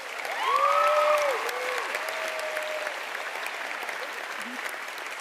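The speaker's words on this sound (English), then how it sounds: "Graduates, please give your parents a round of applause." A graduation audience applauding at a high school ceremony, steady clapping from a large crowd heard at a distance through a hall, swelling briefly at first and then holding at an even level.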